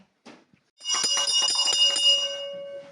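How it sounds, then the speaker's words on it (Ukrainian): A school bell rings continuously for about two seconds with a bright metallic tone, preceded by a few faint knocks, then fades out. "Дзвоник чула, уроки вже закінчились."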